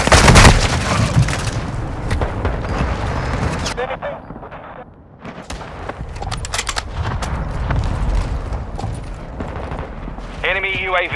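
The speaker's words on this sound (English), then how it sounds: "Friendly mortar strike on the way." Mortar strike explosions in Call of Duty: Modern Warfare II, heavy booming blasts and rattling impacts layered with gunfire across a loud, dense battlefield mix, with a sharp burst near the start and radio-style voice chatter near the end.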